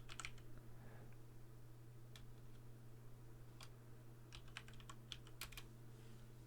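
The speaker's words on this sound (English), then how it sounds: "I'm going to start by typing out a command" A command is typed on a computer keyboard, light clicking keystrokes in small irregular bursts, quiet and close with no talking.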